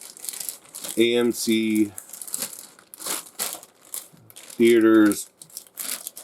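A clear plastic bag holding an AMC promotional Optimus Prime toy with a metal trailer crinkles and rustles in short bursts between and under a man's speech.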